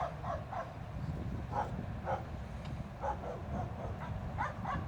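Small dog yips and barks in short, irregular bursts, fairly quiet against a low background rumble.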